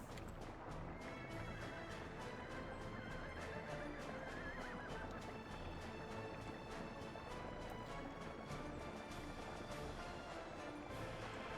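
Horses neigh and whinny repeatedly in the Workers & Resources: Soviet Republic city-building game, with clip-clop hooves and busy game ambience running steadily throughout, no talking.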